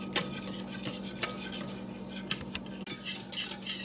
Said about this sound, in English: Stir this until it's all dissolved.